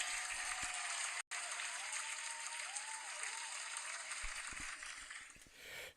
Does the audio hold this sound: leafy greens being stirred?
no